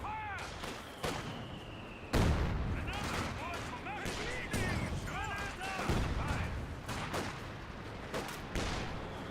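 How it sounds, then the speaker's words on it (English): Rifle volley from Jaeger infantry in Company of Heroes 2, with sharp repeated gunshot cracks and booms spread across the clip beneath steady commentary speech. "Jaeger infantry does find a volley there."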